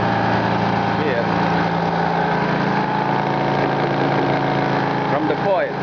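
A large 25 hp AC motor runs steadily, with a loud, constant hum and a buzzing rattle from vibrating plywood. Someone talks over it.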